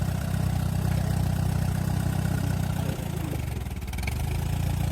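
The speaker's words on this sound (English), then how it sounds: "Let's kick the PTO on." An Allis Chalmers tractor with its PTO driving a brush hog: a loud, steady diesel chug that dips briefly as the load engages, then settles back into a rhythmic, throbbing run.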